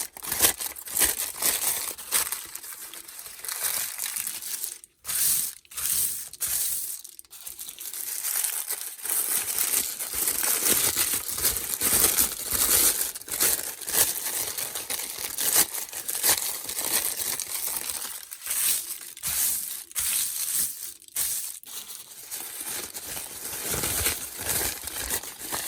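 Sheets of deli paper are crinkled and crumpled by hand at close range, a continuous dry rustling with irregular crackling bursts and brief pauses.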